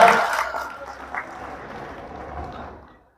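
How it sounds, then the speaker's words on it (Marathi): Applause from a gathered crowd at a school reunion of the 1996 tenth-standard batch of Janata English School, Dindori; a dense clatter of clapping starts strong and gradually thins out over about three seconds. "टाळ्या, जोरदार टाळ्या"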